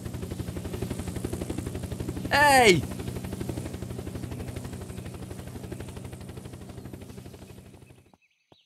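Helicopter in the zombie-survival game Unturned, a rapid, even rotor chop with low engine drone running throughout, heard near. A brief shout cuts in partway through, and the sound stops abruptly at the end.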